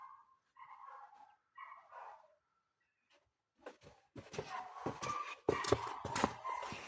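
A dog barks in a hobby-horsing training session: soft muffled sounds first, then a run of sharp, fairly close barks and yelps that grows louder toward the end.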